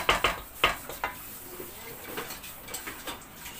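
A metal pot lid clinks and clatters several times in quick, light knocks close by, against quiet kitchen background.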